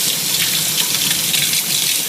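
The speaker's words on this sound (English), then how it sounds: "I've gotten our water working here. Water's good." Hot water runs from a tap into a sink in a steady, close, continuous splashing gush with no talk.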